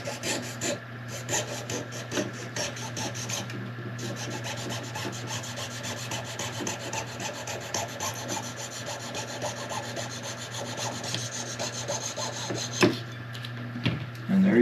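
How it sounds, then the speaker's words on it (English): A wire saw blade cuts down the outer edge of fender washers clamped on a wooden reel seat blank, a steady close rasping scrape that runs continuously with even rhythm and a brief hitch near the end. "I will run my saw, the wire blade, right down the outside of my fender washers"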